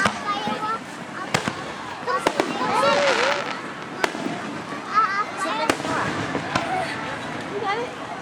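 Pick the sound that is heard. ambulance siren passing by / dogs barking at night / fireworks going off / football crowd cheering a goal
fireworks going off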